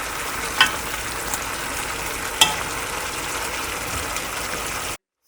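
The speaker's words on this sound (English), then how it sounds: "We have been roasting the beef on the ghee for 15 minutes now" Beef roasts in ghee with a steady, moderate sizzle, broken by a couple of sharp clinks of a utensil against the pan, and the sound stops abruptly just before the end.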